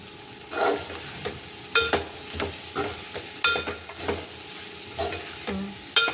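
Chilli powder frying in a pan for a bhindi curry, stirred with a spoon: a series of distinct scraping strokes against the pan bottom over a soft, steady sizzle.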